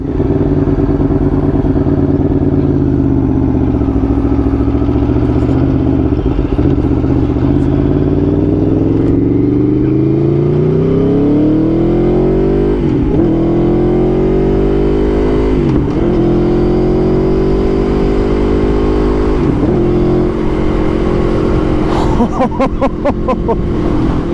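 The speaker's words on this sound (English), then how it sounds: "just the feel of the 4-cylinder engine under you with 175 horses" An Aprilia Tuono 1100 V4 motorcycle with a 175-horsepower four-cylinder engine being ridden, its loud, steady engine note rising and falling through gear changes and throttle blips, close and continuous with no talk.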